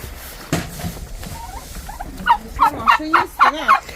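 Several short, warbling gobbles from nearby turkeys come in a quick run, growing louder toward the end, over faint background noise.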